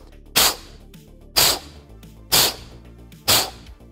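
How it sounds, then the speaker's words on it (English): Four forceful, sharp breath exhales during kettlebell swings, about one per second, each a loud spitting burst of air, close and alone over a faint background. "Make sure that your abdominals are tight and you want to emphasize when you breathe out"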